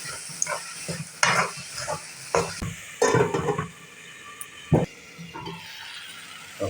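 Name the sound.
stirring and sautéing in a pan for egg bhurji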